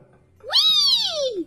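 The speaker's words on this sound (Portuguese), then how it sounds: "Tu gatinho em cima da bancada ali," A kitten sitting on a kitchen counter gives one clear, close meow that rises and then falls, heard alone over a quiet room.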